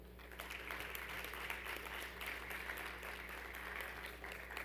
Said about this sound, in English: please give a round of applause for the honor students who are serving as ushers today